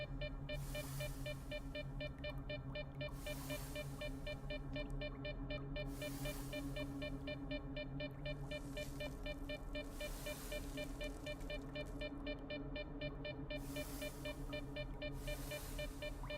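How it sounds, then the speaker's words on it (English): In the video game STALKER 2, an electronic beeping repeats in regular rapid bursts about every three seconds over a low steady hum, faint and continuous throughout. "I could do without the beeping, if I'm being honest."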